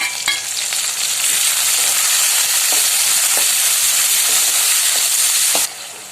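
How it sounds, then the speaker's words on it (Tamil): Onions and tomatoes sautéing in a pan for a Tamil egg kuzhambu, a loud, dense, continuous sizzle with a few stirring clicks, cutting off abruptly near the end. "ஆனியன் வதங்கினதும் தக்காளி சேர்த்து வதக்கிக்கலாம்"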